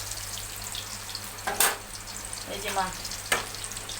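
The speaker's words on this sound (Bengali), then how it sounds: "মিষ্টি কুমড়োর বড়া ভেজে নিচ্ছে কড়াইয়ে।" Pumpkin fritters frying in oil in a wok, a soft steady sizzle with a few brief louder bursts as batter is stirred or turned, while a person speaks briefly nearby.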